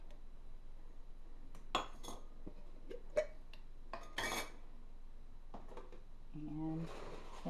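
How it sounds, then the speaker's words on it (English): Glass canning jar lid being removed, with light clinks and a brief metallic scrape amid quiet kitchen handling, faint and close. "Then we take our canning jar, remove the lid"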